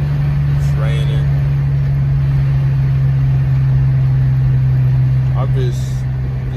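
Steady engine hum and road noise fill the cabin of a sports sedan on a rainy test drive, a constant low drone with faint squeaks over it and no speech.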